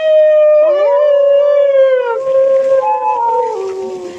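Wolves howling in Głogów, Poland: a long, loud sustained howl with rising and falling pitch, joined partway through by a second, lower howl and softer whimpering, close and without talk.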